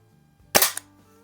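A Crosman BB gun fires a single BB at a can, a sharp, loud crack that rings briefly and then cuts off cleanly into quiet.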